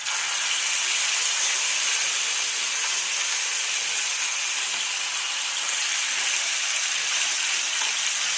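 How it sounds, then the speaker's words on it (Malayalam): Chicken pieces sizzle in well-heated oil with a steady, dense, hissing crackle that holds at an even level throughout, close by and with no voice over it. "നമുക്ക് ചിക്കൻ ഇട്ട് കൊടുക്കാം."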